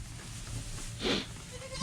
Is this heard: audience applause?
no